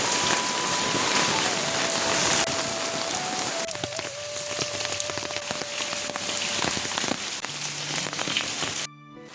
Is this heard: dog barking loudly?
no